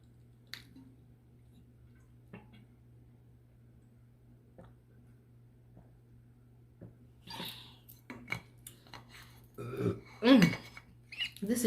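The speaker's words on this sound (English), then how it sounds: "it got me burping" A few faint clicks and handling noises in a quiet room, then a short, low burp near the end amid louder rustling, after drinking water during a mukbang.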